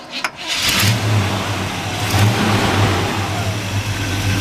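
A 1972 Chevrolet El Camino's 350 V8 fires up after a brief crank and settles into a steady, smooth idle, recorded close and loud with no talking.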